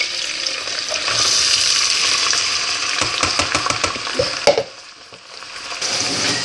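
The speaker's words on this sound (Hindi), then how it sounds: "सब्ज़ी हमारी फ्राई हो रही है" Vegetables sizzle in half a cup of hot oil for a pasta dish, a steady close frying hiss broken midway by a quick run of sharp clacks from stirring.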